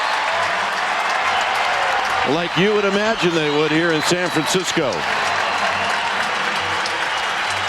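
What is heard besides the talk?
baseball crowd applauding Barry Bonds home run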